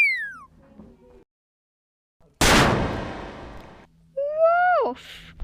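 One sharp firework explosion goes off outside on Bonfire Night, a loud bang with a long fading rumble, then a cat meows nearby in an otherwise quiet room.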